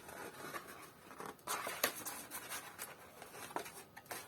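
Pencil scratching out diagonal lines while folding and marking a cardboard pseudo-plate box, a soft, close, continuous scrape with a few louder strokes and no talk.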